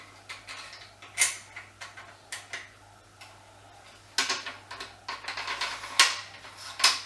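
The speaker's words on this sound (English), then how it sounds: "Just making sure that the bolt will cycle" A Tikka T3 rifle bolt is worked in a GRS Bolthorn chassis, a run of sharp metallic clicks and slides, sparse at first and then quicker bursts, close and fairly quiet.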